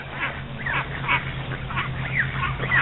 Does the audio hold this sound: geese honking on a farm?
yes